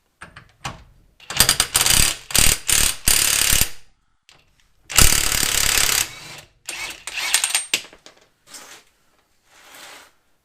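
A ratchet fitted with a 35 mm socket works loose the driveshaft on a Peugeot 206 RC, giving bursts of loud clicking and grinding separated by short pauses, then softer scattered clicks toward the end.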